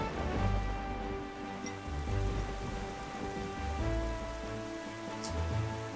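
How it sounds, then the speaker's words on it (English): Steady rain falling in a video game, a continuous soft hiss of drops with low rumbling beneath, evenly sustained throughout at a fairly quiet level. "I'm not a fan of the rain."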